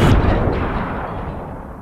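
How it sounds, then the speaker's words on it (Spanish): A cannon warning shot booms once, loud and sharp, then its heavy rumble fades away over under two seconds. "lanza un cañonazo de advertencia"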